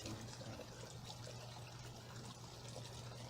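Water trickles and pours steadily into a koi pond filter catch pot, a faint continuous splashing flow under a low steady hum.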